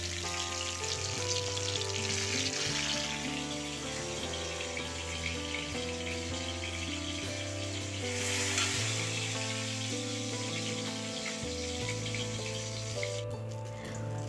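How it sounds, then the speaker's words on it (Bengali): Eggplant pieces fry in hot oil over a raised gas flame with a continuous crackling sizzle, and a spatula stirs now and then. Steady background music runs throughout. "এরপর এভাবে তেল ঝরিয়ে ঝরিয়ে গ্যাসের আঁচকে একটু বাড়িয়ে বেগুনগুলোকে আমি তুলে নিচ্ছি।"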